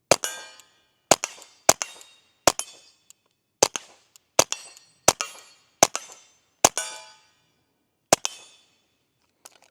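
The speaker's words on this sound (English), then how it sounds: "let's take our final shots through the Ruger Mark IV 2245 Lite" Suppressed shots from a Ruger Mark IV 22/45 Lite .22 pistol, about a dozen sharp cracking pops fired in an uneven slow-to-moderate rhythm with short ringing tails and near silence between them, close by.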